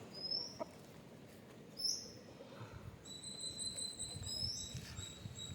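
Several chickens on a Tamil farm cluck and squawk in scattered short bursts against a soft, steady background, with a few sharp high calls standing out.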